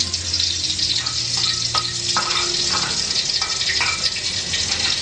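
Spice paste for chili-basil fried rice hits a hot pan with a continuous bright sizzle, broken by several sharp scraping strokes of a spatula stirring it, close and fairly loud, with no voices.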